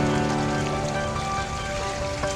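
Heavy rain pours down on a mountain trek in India, a dense, loud, continuous wash of drops that holds steady throughout with no voices.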